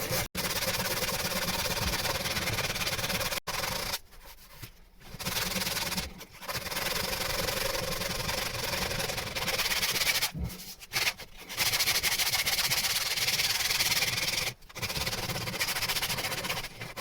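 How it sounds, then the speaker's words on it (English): Hand sanding of a wooden locker, a steady continuous rasping scrape running almost without pause, broken by a few short gaps, close and moderately loud with no talk. "I've got a bit bored sanding that lot"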